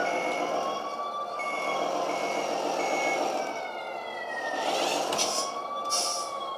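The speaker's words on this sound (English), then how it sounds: "And now we're going to reverse and turn." A 1/14 scale custom 4x2 RC aerial ladder fire truck reverses, giving a string of repeating high electronic beeps over a soft motor whine, near and moderately loud.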